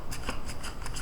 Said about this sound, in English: And so I'm shuffling,